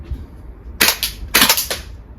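A VFC gas blowback MP5 airsoft gun fires in cold weather: two quick bursts of sharp, loud cracking shots, each a rapid double or triple report, close to the listener over a quiet outdoor background.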